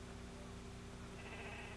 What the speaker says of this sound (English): Mama sheep, she think it is hers.